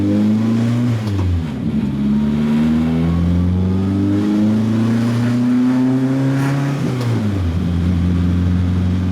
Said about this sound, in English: the car is really tinny and rattly. It's making everything shake